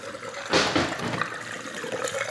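Water draining out of a dishwasher that had been overflowing, a short rushing gurgle that swells briefly, then settles into a softer steady trickle.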